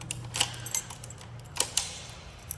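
A motorcycle key goes into the ignition with light metallic jingles and a few sharp clicks from the key bunch, close and quiet in a short burst.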